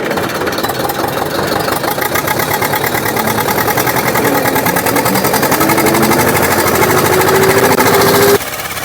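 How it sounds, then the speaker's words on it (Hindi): A Zetor tractor pulls a tiller in second gear across a four-bigha field, its engine a loud, close, rapid knocking chug that holds steady and rises slightly before dropping to a lower drone near the end, with no talk. "तो चलिए दूसरे गेयर में ही चलाता हूँ।"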